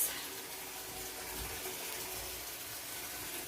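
Kimchi chicken noodle soup broth pours into a cooking pot in a steady, splashing liquid stream that holds even and fairly close throughout, with no speech over it.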